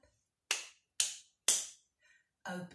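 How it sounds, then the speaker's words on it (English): Three sharp hand claps land evenly about half a second apart, crisp and close, followed by a faint tap and then a brief burst of a nursery-rhyme voice. "give a little clap"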